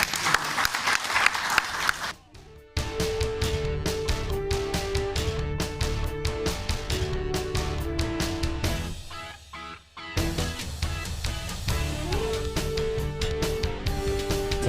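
An audience at a welcome event for newly elected Uttarakhand MPs breaks into loud, sustained applause, a dense wash of clapping with music playing through it and a brief dip partway before the cheering claps resume.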